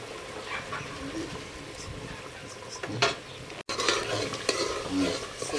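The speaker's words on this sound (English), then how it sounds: "Stirring." A spoon stirs ekuru stew with momo in a pot, scraping and sloshing amid a low simmering sizzle, with a couple of clinks against the pot, close and steady.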